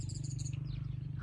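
In a rose garden in Kashan, Iran, small birds give a quick series of high, thin chirps, then a brief falling note, quiet over a steady low rumble.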